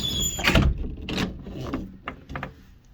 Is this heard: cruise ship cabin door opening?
yes